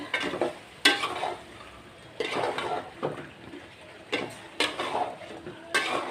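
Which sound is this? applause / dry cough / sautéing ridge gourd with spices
sautéing ridge gourd with spices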